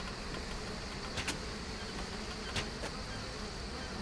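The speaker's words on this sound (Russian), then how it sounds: "Ух ты, улей." Bees swarm around a beehive in the video game Trine 2, giving a steady, faint, continuous buzzing drone with a few brief louder passes.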